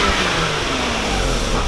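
Stock exhaust of a Lexus IS300 held at steady raised revs, a continuous muted engine drone with a soft broadband rush and no talking.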